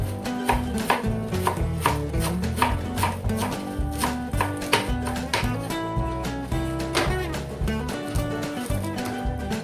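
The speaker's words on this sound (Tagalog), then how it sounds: "Tapos, hihiwain mo siya ng maliliit." A knife chops squash into small pieces for a squash soup, striking a board in a quick, steady rhythm of close, sharp taps over a continuous tonal background.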